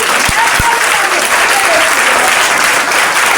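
Applause from a church congregation during a French-language Sunday service, a dense, steady clapping that fills the whole stretch at close range, with a couple of sharp low thumps near the start.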